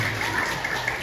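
Brief burst of audience applause at a comedy show in Banjar, a dense, even patter of many hands at moderate loudness, with faint voices mixed in.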